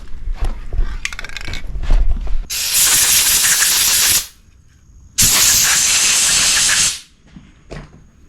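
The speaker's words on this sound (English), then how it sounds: "I'll probably blow it off with the air hose" Two long bursts of an air hose blowing off a freshly painted surface coated with Rust-Oleum gloss black and matte clear, each loud hissing blast lasting about two seconds with quieter handling noise before and between.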